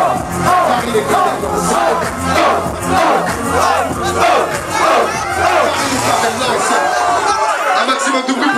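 Dense concert crowd in Paris roaring, shouting and chanting together, loud and continuous with overlapping voices and a low musical thump underneath.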